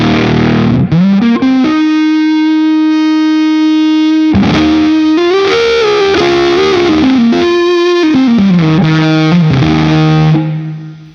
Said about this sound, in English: I'm adding the fuzz from the midnut saw